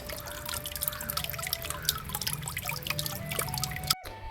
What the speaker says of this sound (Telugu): నేను దగ్గరుండి కట్టించిన ఫౌంటైన్ అన్నమాట